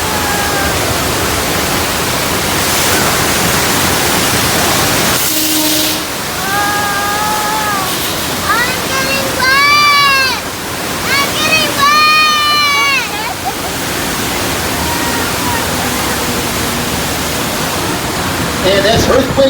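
Water rushes loudly and continuously on the Earthquake ride at Universal Studios, a broad roaring wash that fills the whole stretch. A voice speaks over it partway through.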